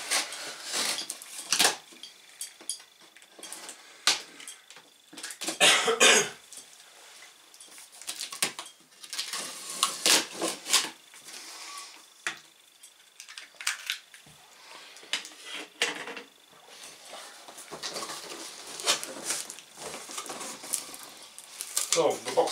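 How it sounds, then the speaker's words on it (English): Someone unboxes a Yamaha PSR-F51 electronic keyboard, cutting open the cardboard box with a knife; close scrapes, tearing, rustling and clunks come in irregular bursts across about twenty seconds. "Let's get this keyboard unboxed."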